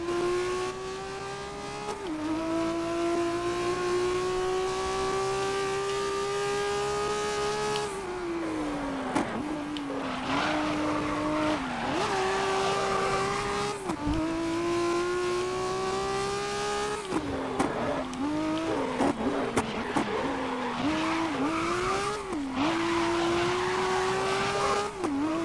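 BMW touring cars race in the game GRID, with a steady loud engine drone rising and dropping through gear shifts, plus occasional tire scrubs, sustained throughout.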